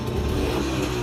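A 1968 Francis-Barnett Plover motorcycle engine holds a loud, steady rev in a short, close burst of dense engine roar.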